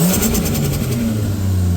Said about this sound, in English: That definitely sounds a lot louder because I'm hardly revving it and it's doing that.